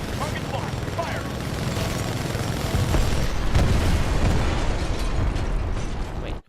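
A titan's weapon fires in Titanfall 2, with a steady barrage of bursts, mechanical clatter and explosions that grows louder and heavier midway, then cuts off abruptly, with speech mixed in.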